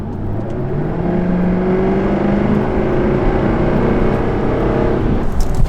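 A supercar accelerates hard up a freeway on-ramp, its engine droning loudly from inside the cabin with rising, shifting tones and a steady rush of road noise, with no talk.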